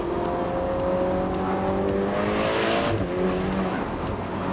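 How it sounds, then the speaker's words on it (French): A Ferrari engine rising and falling as the gearbox downshifts, a loud continuous mechanical roar with shifting tonal lines and quick blips, heard close and steady with no talk. "Vous voyez, passez la vitesse, vous appuyez, ça rétrograde tout de suite."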